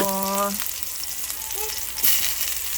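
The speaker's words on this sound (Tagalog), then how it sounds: "magigisa na tayo" A steady sizzle of something being sautéed in a pan, with a brief voiced tone at the start and a scrape or clatter near the end. The cooking sound stays close and fairly loud.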